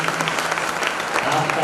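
Audience applause fills a Jain temple in Paithan, Maharashtra, a dense, steady clatter of many hands clapping throughout, loud and close, with faint voices mixed in.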